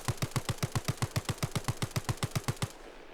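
A Sterling submachine gun fires in a single sustained burst in Arma Reforger, about twenty evenly spaced, fairly slow punchy shots, loud and close, ending with a short fading tail.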